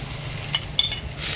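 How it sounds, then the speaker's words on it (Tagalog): Garlic sautéing in a pan as the start of Filipino sinigang soup: a soft, steady sizzle with a couple of quick utensil clinks against the pan, close by and without talking. "Gisa sa bawang"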